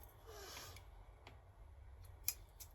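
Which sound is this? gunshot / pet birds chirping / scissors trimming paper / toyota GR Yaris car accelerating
scissors trimming paper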